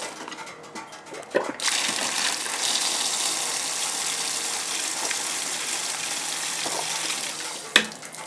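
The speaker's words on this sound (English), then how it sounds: "I'm going to go turn the water back on and we'll test it." Water gushes steadily from a frost-free outdoor hydrant after being turned back on, a loud, continuous rushing spray close by with a few knocks at the start and end, no talking.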